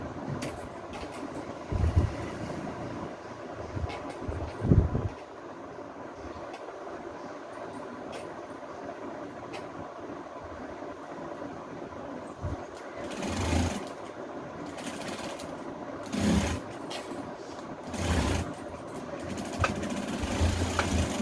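A sewing machine stitching a double seam on the wrong side of a ready-made madisar saree, running in a steady continuous whir with a few brief pauses and clicks, close and moderately loud.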